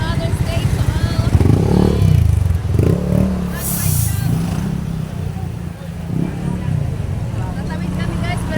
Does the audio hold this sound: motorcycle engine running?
yes